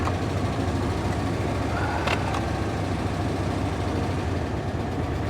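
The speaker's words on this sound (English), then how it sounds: "she's misfiring something fierce" A car engine runs and misfires badly on a vehicle at a salvage auction yard, producing a dense, loud, continuous rumble with uneven low pulsing throughout, and no voices over it.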